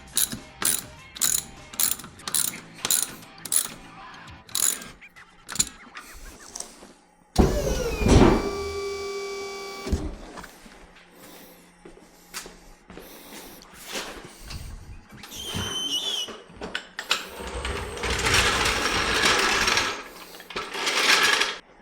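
Ratchet wrench with a deep socket turning fasteners on a Kubota Centaur track loader: rapid clicking ratchet bursts up close, followed by a longer metallic whirring and mechanical rattling with no talk.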